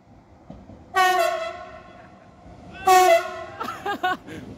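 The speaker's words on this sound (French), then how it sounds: "double klaxon" A Z 20500 commuter train horn on the RER D at Maisons-Alfort blares twice, two loud sustained blasts about two seconds apart, followed by a shorter fainter honk.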